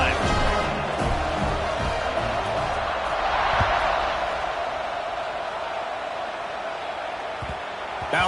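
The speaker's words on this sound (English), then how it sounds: "this crowd is feeling themselves after that last drive" Stadium crowd at a Nebraska vs USC college football game, a steady broad roar of cheering that swells slightly midway, heard from within the stands over the full span with faint voices mixed in.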